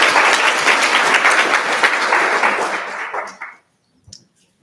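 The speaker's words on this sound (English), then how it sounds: "Are we allowed to give a round of applause to the Election Commission for the excellent candidate expo" Applause from a student government senate audience for the Election Commission, a dense burst of clapping that fades out after about three and a half seconds, leaving near silence with one faint knock.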